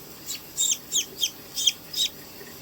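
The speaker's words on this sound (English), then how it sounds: "There is one chicken." A newly rescued chick on a farm clucking in a series of six short, bright calls at a fairly even rhythm, close and clear against a quiet background with no talking.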